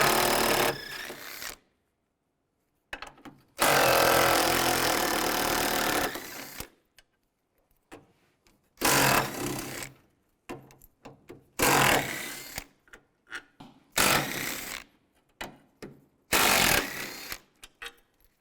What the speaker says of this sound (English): Use a 13mm socket, take all those bolts out